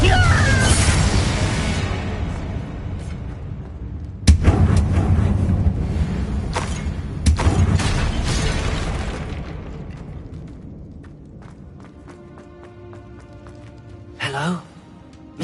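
Confringo blasts in Hogwarts Legacy land as several sharp, booming explosions with crackling debris tails, spaced a few seconds apart, followed by a quieter stretch and a final burst.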